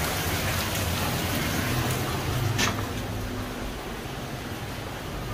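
Steady, dense rain pours down continuously, a broad hiss of water falling on surfaces with no voices.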